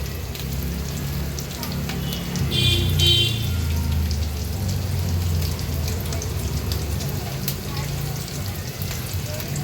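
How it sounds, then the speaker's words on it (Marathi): Hilsa fish roe pieces shallow frying in oil over a low flame, a steady close crackling sizzle that runs the whole time with a low rumble underneath, with no talking. "एक एक करून हे सर्व पीसेस आपण गाबोळीचे तेलावर सोडलेत"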